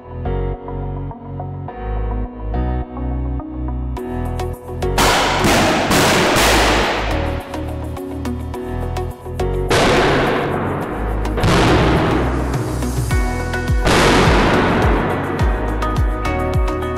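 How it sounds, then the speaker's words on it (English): A device detonates the explosive charge of a car airbag to release the gas during vehicle dismantling. Several sharp, loud bangs go off at intervals, each with a cracking burst. They sit over a steady background of tonal noise. "Airbags are dismantled using a device that detonates the explosive charge to release the gas inside"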